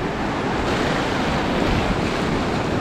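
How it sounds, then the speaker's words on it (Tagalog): Surf breaks on a beach in La Union in a steady, close, broadband wash. Wind buffets the microphone throughout, and there is no talk. "Tayo pumunta sa beach."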